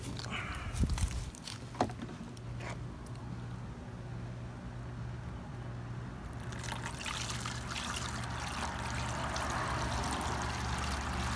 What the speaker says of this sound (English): I'm gonna actually dump it into a container that's empty.